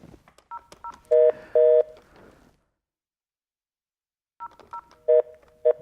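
Telephone keypad tones beep during a phone call, with a quick run of loud dialing tones, a pause of silence, then a second burst of the same tones.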